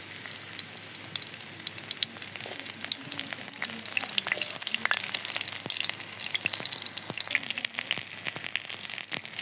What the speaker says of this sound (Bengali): এখন আমি তেল দিয়ে দিই। পেঁয়াজ কুচি আর রসুন কুচি দিয়ে দিলাম।